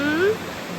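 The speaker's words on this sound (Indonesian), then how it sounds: "Sekarang kita berada lagi di pinggir sungai" Riverside river at a glamping spot flowing as a steady broadband rush, close and constant, with a brief tonal voice-like sound near the start.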